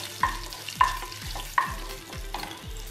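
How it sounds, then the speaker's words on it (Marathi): A spoon stirs turmeric into potato bhaji in a pan, scraping in four evenly spaced strokes over a soft, steady sizzle, close and clear with no talk. "त्याच्यानंतर ह्याच्यामध्ये हळद घालायची आहे, 1/4 टीस्पून. चांगलं मिक्स करून घेऊया."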